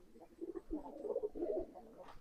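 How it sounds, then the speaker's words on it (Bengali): An adult female pigeon, unpaired, gives a soft, low, throaty cooing in a few rolling phrases, close by and fairly quiet. "এটা ফিমেল অ্যাডাল্ট কবুতর।"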